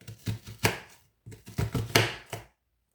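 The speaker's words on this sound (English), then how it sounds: "So I will chop it in half through the root." A knife chops an onion against a cutting board in steady rhythmic thuds, two quick runs separated by a short pause, close up.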